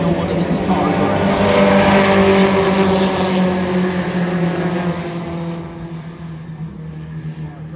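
Four-cylinder race cars at Wiscasset Speedway roar loudly and close by, a dense sustained engine drone that swells and then eases off as the pack passes, with a commentator's voice running over it.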